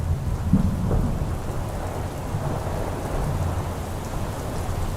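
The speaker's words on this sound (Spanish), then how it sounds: "La tormenta era intensa." A heavy thunderstorm, with dense rain pouring steadily and low rolling thunder rumbling underneath, a constant loud wash of sound with no voices.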